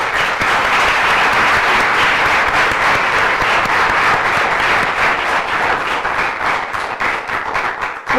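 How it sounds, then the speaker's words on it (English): Audience applause after a talk on the European Union at a summer course, a dense, loud, sustained round of clapping from a full room that holds steady throughout. "A big applause."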